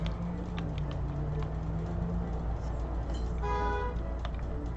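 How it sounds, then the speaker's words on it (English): A car horn toots in short bursts outside a window amid steady street background, with a higher tonal honk sounding near the end, moderately distant. "Honking outside my window."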